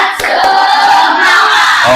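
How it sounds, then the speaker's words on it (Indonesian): A sixth-grade elementary class shouts a loud, energetic spirit chant together, their voices blending into one rhythmic group cry with a few sharp claps near the start. "kita coba tepuk semangat"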